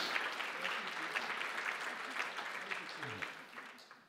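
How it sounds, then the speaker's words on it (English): Applause from the audience at a writers series event for Jamie Kabler and his team, a steady, moderately faint patter of many hands that tapers slightly at the end, with a brief voice underneath. "please give them a round of applause"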